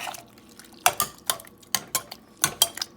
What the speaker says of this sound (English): You can see our vegetables are boiled up very nicely, and you have to mash it like this